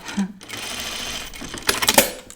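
An industrial sewing machine makes a few single stitches at a time, giving brief mechanical clunks and whirs with pauses between them, close by.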